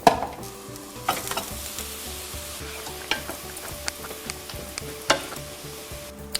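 Szechuan-style green beans cooking in a pan with a little water, a steady close sizzle punctuated by repeated clinks and scrapes of stirring, moderately quiet and free of talk.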